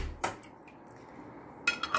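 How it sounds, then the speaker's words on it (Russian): Glass jars of tomatoes set down onto a metal oven baking tray, giving two bursts of clinking and knocking, one early and a cluster near the end, with quiet kitchen background between. "Теперь мы ставим баночки вот такой вот духовой противень."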